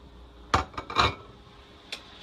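Onions and garlic dropped into a hot pan give a few sharp clattering knocks and scrapes of utensil on metal, close and brief, with quiet gaps between them and no talking.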